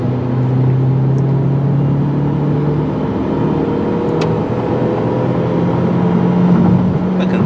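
An Opel Insignia 1.6 Turbo 180 HP accelerates in third gear on a highway from about 80 km/h, its engine droning loudly and steadily with rising tone over road rumble inside the cabin.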